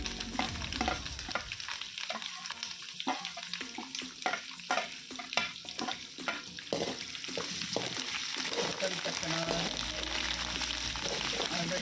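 Green chillies frying in oil for puliyogare gojju, a steady crackling sizzle with scraping stir strokes, close and moderately loud, settling into a smoother hiss.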